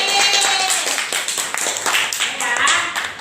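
Classroom applause during a teaching practice lesson, a dense patter of many hands clapping together for about three seconds, with a teacher's voice faintly mixed in.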